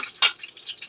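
Green chillies dropped into hot oil for noodles give a short, sharp sizzling hiss, followed by a faint, steady crackle of frying.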